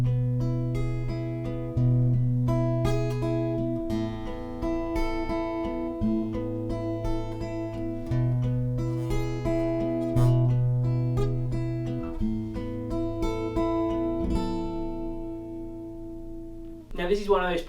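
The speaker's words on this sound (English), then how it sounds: "we have this other little finger picking part" A clean finger-picked guitar part from a song rolls through repeating arpeggiated patterns over a low sustained bass note, steady and close for the whole stretch.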